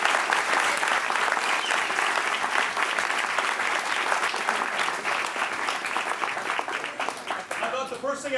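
A banquet audience celebrating a college baseball program's first CCAA championship breaks into loud, sustained applause, dense clapping filling the room from nearby and tapering slightly near the end.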